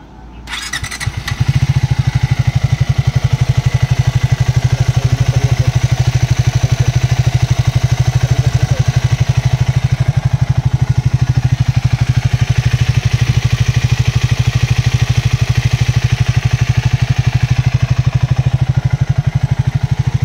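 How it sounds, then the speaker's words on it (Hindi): A Triumph Speed 400 motorcycle engine cranks and catches, then settles into a loud, steady, close idle with a rhythmic thumping that runs on without pause. "अभी शुभम की बाइक हम स्टार्ट करके देखेंगे।"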